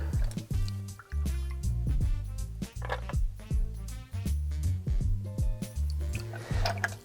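A cocktail, an Angel Face, is strained through a Hawthorne strainer into a glass, with close, irregular dripping and splashing pours and small squishy liquid sounds, no talking.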